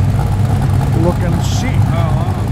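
A Toyota Supra passing on a Sydney street, its engine a loud, low steady rumble filling the scene, with a voice talking briefly over it.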